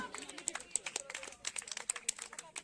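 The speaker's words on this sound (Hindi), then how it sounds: "बच्ची को ट्रॉफी दे करके उसका हौसला बढ़ाए। जोरदार तालियां।" Audience at an academy New Year party clapping for a girl receiving a trophy, with dense, steady applause under a lively hall and voices talking over it.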